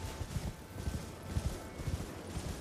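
Horse hooves clopping in the Elden Ring Shadow of the Erdtree video game, a steady run of soft thuds at moderate distance over a low ambient backdrop.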